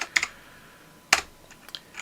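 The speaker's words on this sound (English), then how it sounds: "Type your message out, and when you're done, press enter." Short bursts of typing on a computer keyboard: a couple of quick clicks, a pause, then another cluster of sharp keystrokes and a few lighter taps, close and fairly quiet.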